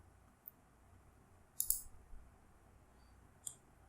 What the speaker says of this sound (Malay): Pertama sekali adalah dengan klik pada ikon ini.